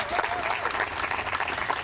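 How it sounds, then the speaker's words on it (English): An audience at a groundbreaking ceremony gives a steady round of applause, a soft, continuous wash of many hands clapping at a moderate distance. "one more round of applause for Eileen, our fearless leader"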